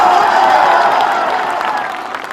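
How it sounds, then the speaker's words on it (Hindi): A crowd at a political rally breaks into loud, dense applause mixed with some cheering, sustained and fading slightly toward the end. "तो ताली बजा के आशीर्वाद देना चाहिए"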